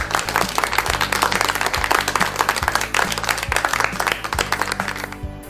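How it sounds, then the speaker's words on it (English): Applause for young learners in a Radyo Eskwela English lesson broadcast, dense rapid clapping with a steady underlying tone, fairly loud and continuous before fading at the end. "A big applause to you, my young learners, for your participation and discipline."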